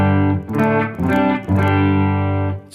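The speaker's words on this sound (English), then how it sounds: "a humbucking pickup just gives it, a real fat rock sound, even without any distortion on it." Electric guitar through a humbucking pickup with a fat, full-mid rock tone and no distortion, playing three sustained, ringing chords in close succession, loud and clear with no talk.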